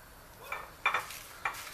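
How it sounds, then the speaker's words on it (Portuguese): Caldo verde ingredients sautéing in a pan, stirred with a few scraping strokes over a soft background sizzle, close and moderately quiet. "vamos misturar, vou deixar refogando um pouquinho"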